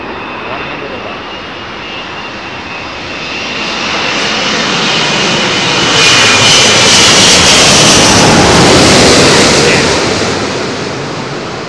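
Emirates jet airliner on the runway at London Heathrow, its engine roar building from a moderate rumble to a loud, sustained blast before easing slightly, a powerful continuous wash of sound with no talk.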